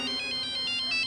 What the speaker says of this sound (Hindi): मेरा फोन आ गया